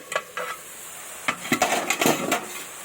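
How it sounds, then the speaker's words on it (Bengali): Winter vegetables frying with spices in a pan, stirred with a utensil: a few scraping strokes and clinks against the pan over a low sizzle, close and moderately loud. "এইভাবে আমি নাড়াচাড়া করে দেবো"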